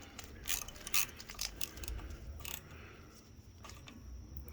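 Half-inch wrench tightening a nut on a Kohler Command Pro 20 HP engine during a flywheel-side oil seal replacement, giving quiet metallic ratcheting clicks and clinks in short irregular bursts, close by but faint.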